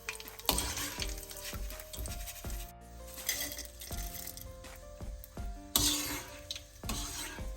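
Chana dal fries in hot oil for a potato mixture snack, a soft sizzle broken by repeated metallic clinks and scrapes of a ladle stirring and lifting the lentils out.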